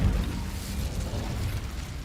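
A fiery Incendio spell cast in Hogwarts Legacy gives a sustained low rumbling burst, moderately loud, holding steady for about two seconds with no talk over it.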